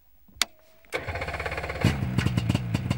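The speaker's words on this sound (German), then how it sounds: "Der klingt wie ein Trabi, im Zweitaktmotor eben." A small two-stroke paramotor trike engine sputters to life after a sharp click, then settles into a fast, buzzing, rattly idle close by.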